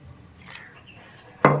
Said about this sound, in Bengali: আর জল দিয়ে দেবো।